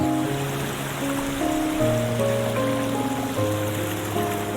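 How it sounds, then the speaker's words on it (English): Mountain water spilling over rocks and through tangled tree roots, a continuous close trickling and splashing wash with a few steady tonal notes layered over it throughout. "water was just falling down the mountain, going through all these colonies of tree roots, just pouring through rocks in every which way"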